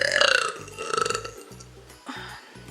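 A woman lets out a long, loud burp, followed by several shorter, fainter burps with brief pauses between them.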